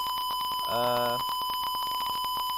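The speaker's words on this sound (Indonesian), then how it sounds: "Dapat dilihat buzzer akan terus berbunyi dan juga LED akan terus menyala" A smoke and fire detector's buzzer sounds one steady electronic beep tone lasting about half a second, over a continuous background hum and rapid clicking.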